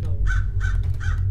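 A crow caws three times at an even pace in the video game Hello Neighbor Alpha 2, the calls clear and moderately close over a steady low rumble of game ambience.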